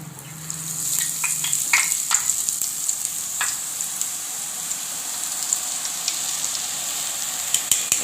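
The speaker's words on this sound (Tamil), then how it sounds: "கரெக்டாக நீங்கள் எண்ணெய்க்கு நேராக அந்த பூந்தி கரண்டி வச்சுட்டு இப்போ குழி கரண்டியால் மொண்டு ஊற்றிட வேண்டியதாங்க" Boondi batter poured through a perforated ladle into hot frying oil for Diwali kara boondi, a steady dense sizzle and crackle that continues throughout, with a few sharp taps of the ladle.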